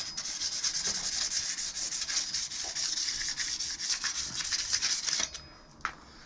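Fine sandpaper rubbed around a Honda NC750X motorcycle fork gives a steady, close, continuous abrasive rasp for about five seconds, then it stops and only a brief scrape follows.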